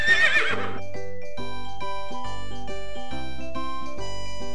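A cartoon horse neighs once in a Dora VTech V.Smile video game, a short whinny at the start followed by a bright, jingly electronic game tune.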